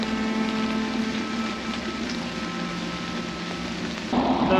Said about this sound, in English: So, started to rain.